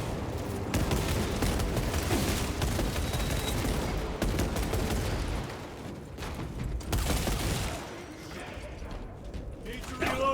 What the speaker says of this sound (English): Brilliant blind fire around that corner there.